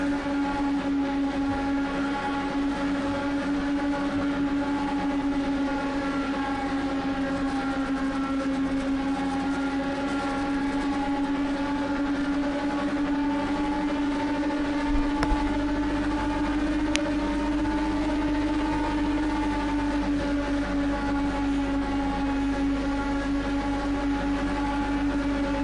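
Race car engine in Project Cars 2 on a lap of Indianapolis motor speedway, a sustained steady high drone holding pitch with slight shifts, loud and alone throughout.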